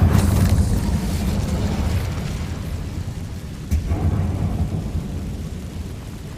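An Incendio fire spell cast in Hogwarts Legacy, a deep whooshing roar with a fiery rumble that swells at the start, fades, then flares again with a brief burst midway.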